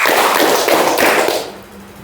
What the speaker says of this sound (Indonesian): Tepuk tangan 1. Tepuk tangan 3. Tepuk tangan 4.